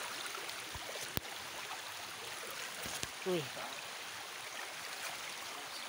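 A stream runs over rocks with a steady, soft trickle and gurgle, and a few faint knocks and splashes close by. People talk quietly now and then.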